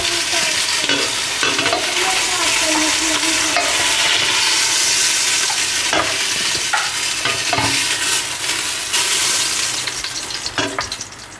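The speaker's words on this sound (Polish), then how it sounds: "I smażymy drugą partię. Wszystko cały czas na pełnych obrotach." Beef sizzles loudly in a hot pan over full heat, a constant crackling hiss with occasional clicks and scrapes of stirring.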